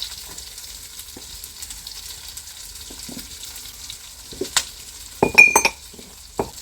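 Crushed garlic sizzles with onions in a pan as a village-style Tamil fish curry is cooked, a soft steady frying hiss broken by a few clinks of a utensil stirring against the pan.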